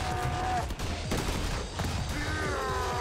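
Rapid gunfire bursts from the video game Madness: Project Nexus, dense overlapping shots running continuously over about three seconds against a busy game soundscape.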